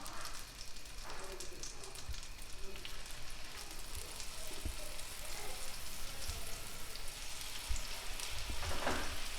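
Salt and black pepper coated steaks sear in hot butter in a cast iron pan, giving a steady close crackling sizzle with scattered pops throughout.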